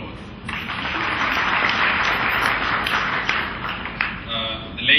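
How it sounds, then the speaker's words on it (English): Guests at a DHL gala dinner applaud, a steady wash of many hands clapping in a large room that swells and holds for several seconds, with faint voices mixed in. "Please give yourselves a round of applause."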